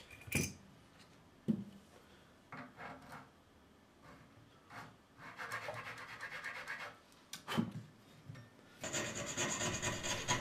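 A file rasps through the string tree channels on a guitar headstock to deburr them, heard as intermittent short scraping strokes, louder bursts near the start and a sustained harsher rasping run toward the end.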